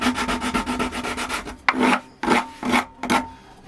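Rhythmic rasping strokes of a sanding block rounding and chamfering wood edges, quick and continuous at first, then a few separate, slower scrapes.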